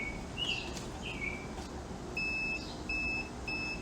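A multimeter set to continuity, testing the wiring of a Ryobi 18V battery pole saw, gives several short electronic beeps, steady high tones in an irregular on-off pattern, close and clear over faint room noise.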